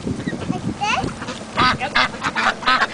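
Ducks being fed outdoors quack in a dense, close cluster of short nasal calls, with voices talking briefly at the start.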